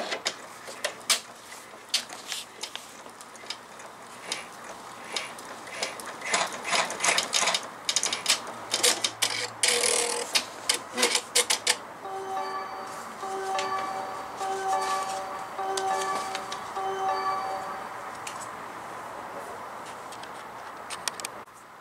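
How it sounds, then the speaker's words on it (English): Embroidery machine stitching the lobster claw placement line for an in-the-hoop window wallet, a loud rapid mechanical clatter of needle strokes that settles into a steadier, rhythmic whirring run. "the first stitch is going to be the Lobster Claw placement"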